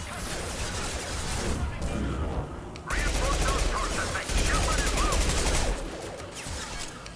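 Sustained gunfire from a Mass Effect 2 firefight, dense overlapping shots and bursts running loud and continuous throughout, with a brief lull in the middle before the barrage resumes.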